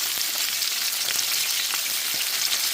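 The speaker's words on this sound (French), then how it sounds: "Ici, je fais griller des courgettes que j'ai fait prendre toute leur eau dans un peu de sel" Salted courgettes sizzle in a pan over high heat, a dense, close crackle with scattered sharp pops and no voices.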